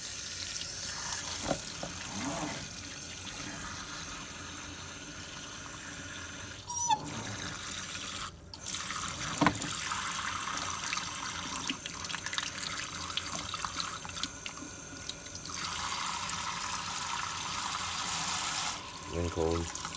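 Warm water running steadily from a tap onto a plant in salty, cracked soil, a continuous close splashing rush with a few brief knocks and shifts.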